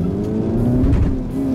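A 400 hp Seat Leon Cupra powers out of a corner with its front wheels spinning, the engine note loud and close, rising steadily and holding on a strained, buzzing tone.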